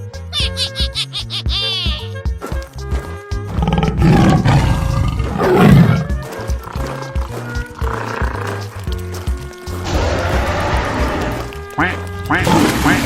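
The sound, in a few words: cartoon duck quacking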